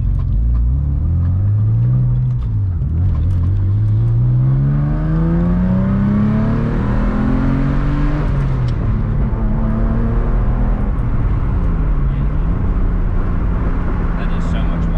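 A manual-swapped Subaru SVX engine revs loud and close, rising in pitch through first, dropping at a shift, then climbing again in second with a steady drone, while someone talks over it.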